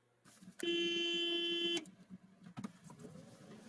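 A car horn blasts once in a sustained honk of about a second while the car faces a moose, loud and close, followed by quieter rustling and scattered thumps.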